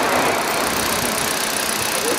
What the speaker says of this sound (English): we are listening to individual sound of the engine.